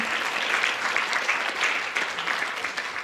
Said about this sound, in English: quick round of applause for those artists up there